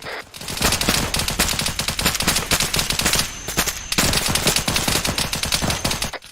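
Rapid machine gun fire rings out in a military shooter game, loud and close, in dense sustained bursts with a brief pause midway before the firing resumes.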